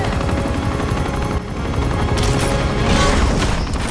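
Steady helicopter rotor roar from Uncharted 2 with gunfire aimed at the chopper, a loud continuous drone with sharp shot bursts cutting through near the end; no talking.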